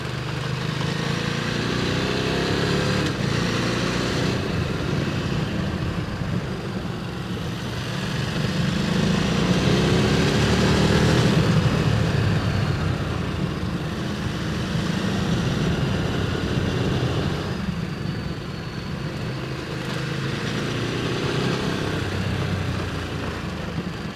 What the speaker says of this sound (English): So here we are, on an adventure bike.